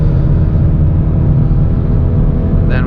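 A 2020 Hyundai Veloster N Performance Pack engine drones heavily from inside the cabin, a steady loud low rumble under load as it downshifts automatically.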